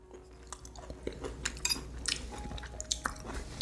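Close, quiet chewing of a bite of food dressed with pepper and mushroom hot sauce: soft wet crunches and squishy bites in an irregular rhythm, heard alone.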